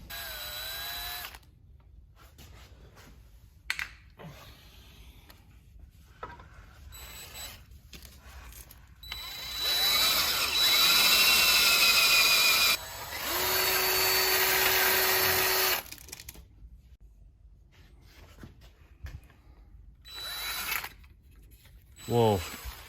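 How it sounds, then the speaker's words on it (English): A power drill boring a half-inch hole through a Jeep JT/JL frame, running loud in bursts of several seconds with pauses between, while a voice talks in the gaps. "drill through the frame to the size that we need, which is 1/2 inch."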